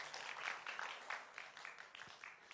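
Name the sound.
applause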